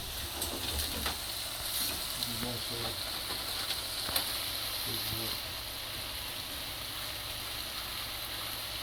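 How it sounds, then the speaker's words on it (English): Filling for a Cornish pasty frying in a pan, a soft, even sizzle with a few light clinks and stirring sounds early on, then settling into a quiet steady crackle. "just going to let that fry for a second or two"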